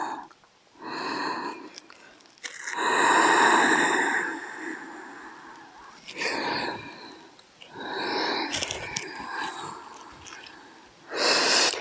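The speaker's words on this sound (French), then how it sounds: "Vous pouvez même ouvrir la bouche pour expirer." Slow, deep breaths during a yoga back stretch, with long airy exhales through the open mouth in several separate waves, close and fairly loud, with pauses between them.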